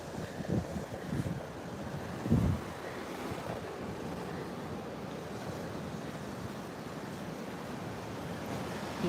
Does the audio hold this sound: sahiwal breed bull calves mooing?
no